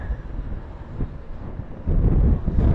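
Strong wind buffets the microphone while riding a Honda Forza 125 maxi scooter on a city road, a steady low roar that swells louder and rougher in the last second.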